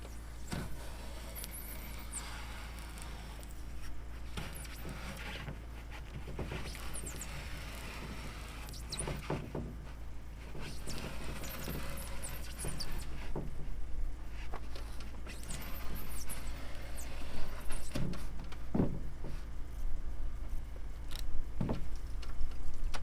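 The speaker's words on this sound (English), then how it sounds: "now I'm going to draw a line and then cut it" Styrofoam is marked with a line and then cut, giving scattered close scratches, squeaks and taps over a steady low hum, growing slightly louder toward the end.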